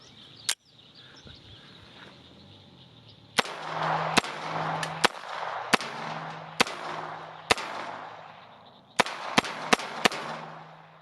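Sharp, loud gunshots from a Beretta U22 NEOS .22 pistol ring out close by, a single shot followed by a quick string of evenly spaced shots, then a short rapid burst, with a ringing tail after each.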